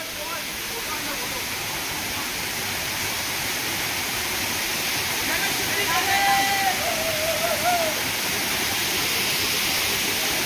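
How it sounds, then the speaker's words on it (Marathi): A waterfall in the Konkan region roars in a steady, broad rushing wash of falling water, loud and continuous throughout, with faint voices under it. "बघा धबधबा मित्रांनो"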